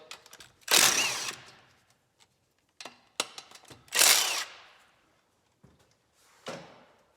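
A hand ratchet fitted with a 12mm socket turns a car bolt during a clutch replacement. A few short bursts of close ratcheting come with sharp clicks between them and quiet gaps, with no talk.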